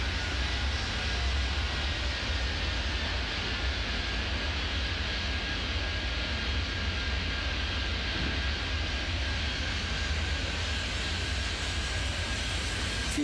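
Steady, loud broadband jet roar from an airliner rolling for takeoff in the airport-control game Airport Madness 3D, holding constant throughout with no other clear events.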